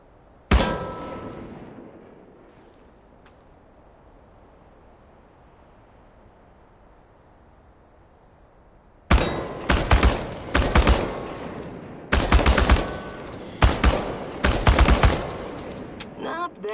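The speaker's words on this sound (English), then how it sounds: "Commence firing." Automatic weapon fire at cans at a shooting range in Chernobylite: after a single early shot and a long quiet stretch, several loud, close bursts follow in quick succession, each a rapid rattle of rounds.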